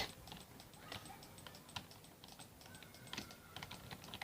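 Rapid computer mouse clicking during a Roblox running simulator game, a dense patter of close, quick clicks over steady background noise.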